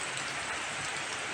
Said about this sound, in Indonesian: mengalami banjir yang cukup besar akibat hujan deras yang sudah terjadi semenjak siang tadi